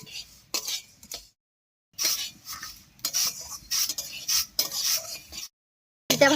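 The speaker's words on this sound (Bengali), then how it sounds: "তিলটাকে নাড়িয়ে চাড়িয়ে বেশি একটু লাল লাল করে ভেজে নেব" Sesame seeds dry-roasted in a wok, stirred in short bursts of scraping and rattling with brief pauses between strokes, close and fairly quiet.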